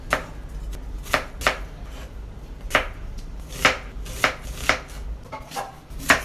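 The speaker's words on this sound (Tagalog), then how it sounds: "naghiwa muna ako dito ng bawang at saka ng mga sibuyas" A knife chops garlic and onions on a board, sharp close knocks in an uneven rhythm, about a dozen strikes with short pauses between them and no voices.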